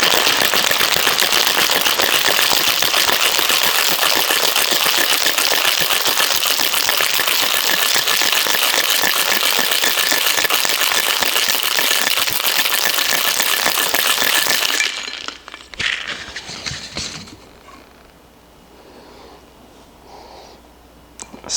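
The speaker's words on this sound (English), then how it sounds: "Then we are going to get some ice and shake this up." Ice rattles hard inside a cocktail shaker holding a whiskey caramel drink, a loud, steady churning that runs for about fifteen seconds, then stops abruptly, leaving a few faint clinks and handling sounds.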